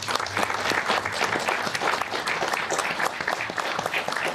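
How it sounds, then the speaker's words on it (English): Sustained audience applause honoring veterans at a public hearing in Alaska, a steady dense wash of many hands clapping at moderate loudness throughout, with no talk over it. "please share our thanks with a simple applause for all who have served"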